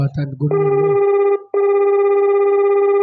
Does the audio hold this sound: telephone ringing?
yes